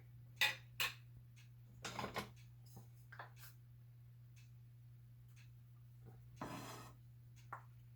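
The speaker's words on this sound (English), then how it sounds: "Put some bacon grease in there." A spoon scrapes and taps against a pan while bacon grease goes in, giving a few sharp metallic clinks and light scraping over a steady low hum, fairly close and fairly quiet.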